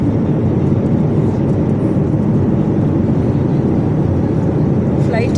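An airplane in flight gives a steady, loud, unbroken cabin roar of engine drone for the whole stretch, with no change in level.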